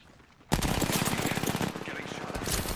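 Sustained automatic gunfire in an Apex Legends Arenas ranked match bursts in abruptly after a brief quiet moment, continuing as loud, dense rapid fire for over two seconds.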